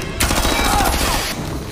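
Rapid gunfire from the captain's men in a film scene, a dense burst of loud, close shots with ringing echo lasting over a second before tailing off.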